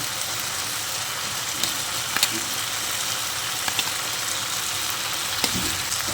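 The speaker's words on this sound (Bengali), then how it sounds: "এবার আলু আর পটলটা দিয়ে আবারও সব কিছু একসঙ্গে ভালো করে মিশিয়ে নিচ্ছি" Fried potato and pointed gourd get stirred into a spice paste in a pan, giving a steady close sizzle broken by a few light scrapes of the spoon.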